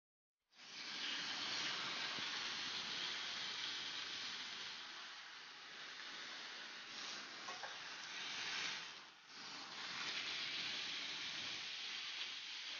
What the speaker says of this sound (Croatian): I popržimo na vrućoj tavi sa svih strana dok ne dobije lijepu smeđu boju